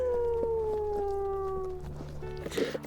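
A wolf in the WolfQuest game lets out a long, sustained howl that slowly glides downward and fades, followed by softer overlapping howls from other pack wolves joining in near the end.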